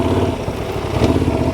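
A motorcycle engine runs steadily on a riding course while the rider works through banked turns, clutching and shifting weight, a close continuous drone with slight swells in revs.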